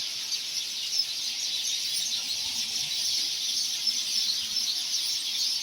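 A large flock of sparrows, around a hundred birds, chirps in a tree in a dense, continuous high twittering chorus, steady and moderately distant, with no talk.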